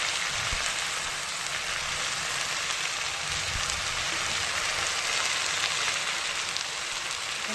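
Jute leaves fry in a pan with garlic and dried red chili, making a steady, even, rain-like sizzle that holds close and constant throughout, with a few faint low knocks.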